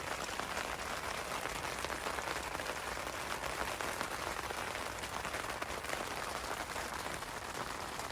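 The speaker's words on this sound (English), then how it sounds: "Well, it's raining pretty good now." Rain falls on a camping tent in wind, a dense, even patter that continues without a break, close and steady, with no voices.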